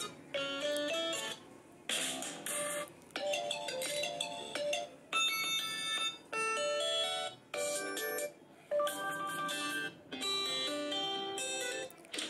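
Ringtone previews on a Tecno Spark 7T phone play as a string of short, loud melodic chime segments, one after another with brief gaps and no talk.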